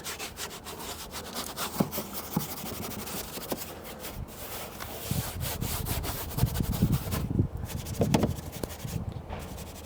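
A cloth wipes and mops dirt inside a 2014 MINI One, giving a steady, close rubbing scrub with uneven strokes and no talk.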